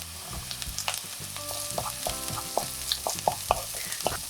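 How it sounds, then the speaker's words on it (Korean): Diced Spam fries with onions in a pan for Spam egg fried rice, a close, steady sizzle broken by sharp clicks and knocks of a spatula against the pan. "스팸은 노릇노릇하게 볶아주셔야 해요"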